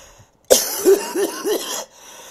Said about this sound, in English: If you're gonna cough like that, let me know.